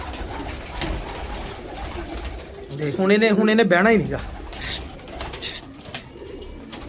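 Pigeons, including a golden pigeon, coo in a deep, wavering burst of about a second from a nearby pen, followed by a few brief higher bird calls, while someone talks over steady background noise.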